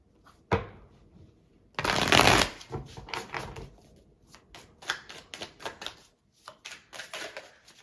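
Tarot cards are shuffled close by in a loud riffle burst, followed by a run of quick irregular slaps and flicks as the deck is cut and squared, with no talking.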